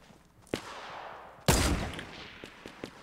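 Gunfire in Fortnite: two distinct sharp shots, the second louder with a longer ringing tail, followed by a few fainter pops, no talking.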